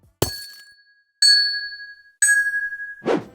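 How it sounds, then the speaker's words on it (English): Three bright, glassy Minecraft amethyst block chime tones ring out one after another, each sustaining and fading, followed by a soft brief rustle. "I've given to an amethyst block, since they naturally sound so musical"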